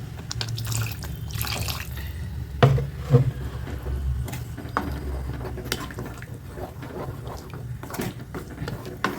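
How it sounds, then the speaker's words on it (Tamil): Water splashes steadily into a pan of parotta salna masala, a close, continuous pouring sound with a couple of small clinks, no talking. "இன்னும் கொஞ்சம் கூட தண்ணி ஊற்றிக்கலாம்"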